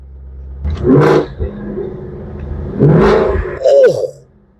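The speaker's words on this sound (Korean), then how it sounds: "배기음 자체가 큼직큼직하고 무렁차고 낮게 깔리는 의미라서 정말 이 남자의 신경을 울리는 그런 배기인 것 같습니다" A deep Ford Mustang 5.0 GT V8 with tuned exhaust revs twice, each burst rising to a loud roar and falling back, with a low idle rumble in between.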